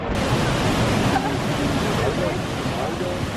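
Stream water flowing near a waterfall in Manavgat, Antalya, a continuous broadband rush of moving water, fairly loud and steady throughout, with faint voices blended in the background.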